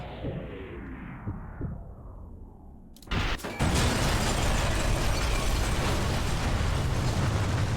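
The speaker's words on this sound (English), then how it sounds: "Can you move back over here, please, so I can explode you with this artillery shell?" Artillery shell exploding in Sniper Elite 3, a sudden loud blast after a quiet whooshing approach, followed by a long roaring, rumbling debris wash that fills the rest of the stretch.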